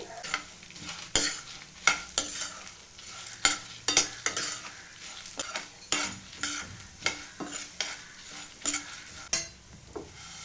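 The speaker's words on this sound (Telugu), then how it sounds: "నీట్గా తుడిచిపెట్టుకున్న ఒట్టిమిరపకాయలు కూడా వేసేసుకొని వేయించేసుకుంటే సరిపోతుంది" Cumin seeds and dried red chillies frying in a pan, steady sizzle punctuated by repeated crisp scrapes and taps of a stirring spoon, close and fairly loud, no voices.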